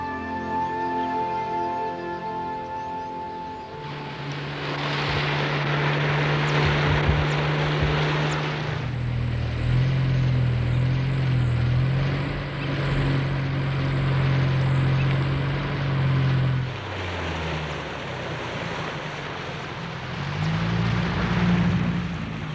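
Propeller aircraft alighting on quieter river water downstream from Lake Victoria on the Nile, its engine droning and shifting pitch as it settles, with rushing water and wind noise rising mid-clip; no talk.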